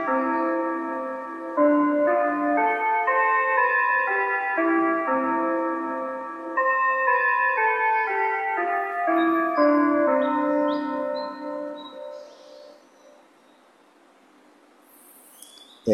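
A clock striking twelve o'clock plays a slow chiming bell melody of overlapping ringing tones, clear and alone, which fades toward the end.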